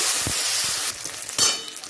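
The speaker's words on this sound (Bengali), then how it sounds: "এরপর আমি ওই তেলেই আলুগুলো হালকা করে ভেজে নেব।" Potatoes frying lightly in hot oil in a home kitchen, a dense hiss and sizzle that is loud at first, then drops and surges again in short bursts, with no talk.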